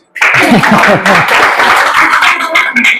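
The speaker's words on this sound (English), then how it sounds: "Clap, please." Clapping from a school audience at a 100% SSLC results celebration in Mysuru fills the room, loud and close, with voices calling out over it.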